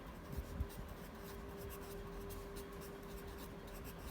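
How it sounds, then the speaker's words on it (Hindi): Handwriting while working a polynomial long-division problem: a faint, steady scratch of writing across a page, close and quiet, with no speech over it. "डिवाइज़र को बाहर लिखेंगे"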